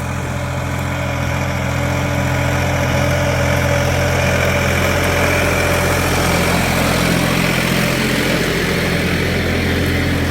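A Solis RX50 tractor pulls a Bomet plough in low fourth gear with front-wheel drive engaged, its engine droning loud, steady and close with a heavy low hum and vibration and no voices.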